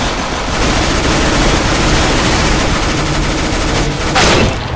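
Rapid bursts of gunfire in Counter-Strike: Global Offensive, loud and sustained with overlapping shots, a brief sharp blast near the end, and faint game sounds underneath.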